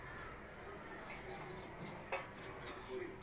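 Metal spoon scrapes and clinks in a wok as freshly fried peanuts are stirred for Diwali poha chivda, soft close clattering over faint background noise.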